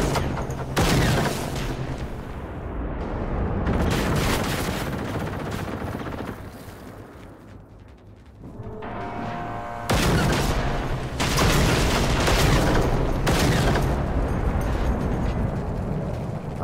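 Heavy gunfire and booming explosions in the video game Generation Zero, loud and dense in bursts across the clip with a quieter lull in the middle before the barrage resumes.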